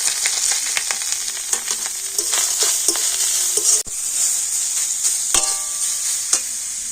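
Ginger paste and pointed gourd frying in oil in a pan, a constant bright sizzle broken by frequent spatula taps and scrapes against the metal, close up and with no talking.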